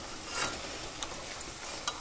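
Malabar spinach (pui shak) fritters fry in a pan with a faint, soft sizzle, broken by a few light scraping clicks of stirring.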